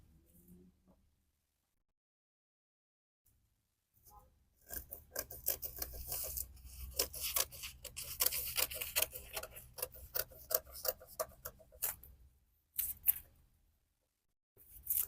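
Scissors snip steadily through dress fabric along a neckline, a close run of crisp, rapid cuts after a quiet start, followed by a few isolated snips.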